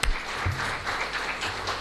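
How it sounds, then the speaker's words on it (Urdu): Audience applause at an Allama Iqbal Day celebration at the Prime Minister's House in Pakistan, a dense burst of many hands clapping that holds fairly steady and close for a couple of seconds. "اور سیکرٹری پاور، ان کے لیے بھی بہت تالیاں لگائیں"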